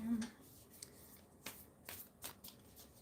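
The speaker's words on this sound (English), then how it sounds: "if you're actually trying to like shuffle them like regular cards, it's not the easiest" Oracle cards of different shapes being shuffled by hand, giving repeated soft riffling swishes and flicks at an irregular rhythm, fairly close and quiet in a still room.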